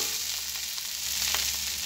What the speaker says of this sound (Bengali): তেল দিয়ে আবার কিছুক্ষণ নাড়াচাড়া করে নেব